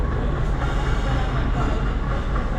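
Train at the fourth platform of Kacheguda railway station: a dense, continuous rumble of rolling railcars, close and fairly loud.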